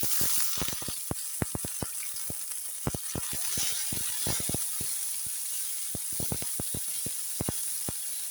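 Chopped onion and green chilli sizzling in hot oil in a pan for a Kerala thoran, a constant hiss peppered with many sharp, irregular crackles and pops, close and without talk.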